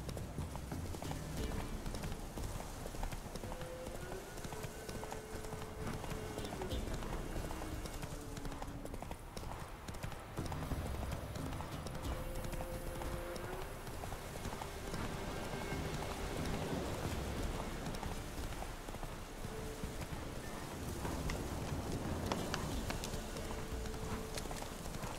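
Roach, the horse in The Witcher 3, trots and gallops with rhythmic clip-clopping hooves that run steadily throughout, set over a constant rain-like ambient wash and faint in-game music tones.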